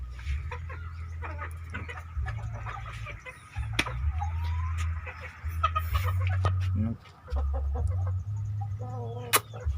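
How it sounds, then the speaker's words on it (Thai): A young farmyard hen attempting to crow among other chickens, with short clucks and strained calls scattered over a loud low engine-like hum, while someone talks nearby. "ตัวนี้กำลังขันครับแม่กำลังหัดขัน"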